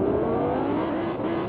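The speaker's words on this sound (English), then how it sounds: "Let me just get in my car." A car engine hums steadily in the Fortnite video game, a continuous mid-pitched driving drone with a slight rise in pitch and no other sounds.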